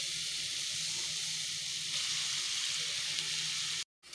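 Chicken pieces dropped into a hot pan of softened onions and peppers give a steady, loud hissing sizzle that holds throughout, then cuts off abruptly near the end.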